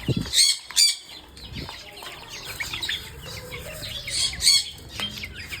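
Chickens cluck and squawk close by, with a couple of loud bursts near the start and scattered pecking and rustling between calls.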